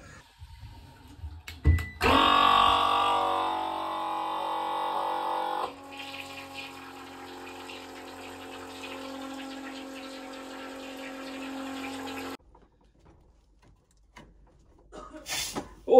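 Water runs from a hose into an unvented hot water cylinder during a plumbing install, a steady close gush that holds for several seconds, changes tone midway, then cuts off into near silence with a few faint knocks.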